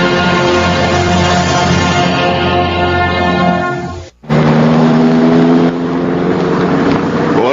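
A vehicle engine runs in a radio drama, a loud, steady droning hum that cuts out for an instant midway, then picks up again and continues.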